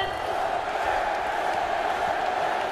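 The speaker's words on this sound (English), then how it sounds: "The crowd is going crazy, guys." An arena crowd in the video game Far Cry 4 roars and cheers in a steady, dense wash of sound throughout, with no clear pauses.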